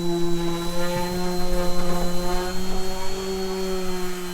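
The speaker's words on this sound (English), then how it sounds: "We're going to go over it with a sander one more time" A power sander works over a glued wooden blanket ladder with a steady buzzing whine and slight pulsing as it moves across the wood, close and continuous with no talking.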